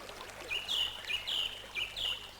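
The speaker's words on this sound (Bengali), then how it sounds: "পাখির কলকাকলিতে।" A bird in the mountains sings a short series of four or five bright, clear chirps in rhythmic bursts, fairly faint over a quiet background.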